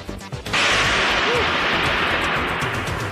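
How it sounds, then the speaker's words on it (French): A medium-calibre artillery shell bursts against a fort, a loud broadband blast that swells suddenly and keeps rumbling and hissing without letup, close and overwhelming. "Un obus de calibre moyen explosant sur le fort."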